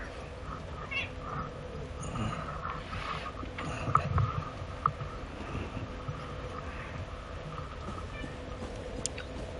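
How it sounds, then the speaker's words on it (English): A pet cat meows faintly in a room during a gaming session, a couple of brief calls rising above a low steady background hum, with no talking. "I don't know if you can hear my cat"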